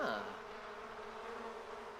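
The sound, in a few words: bees swarming in The Sims 4 video game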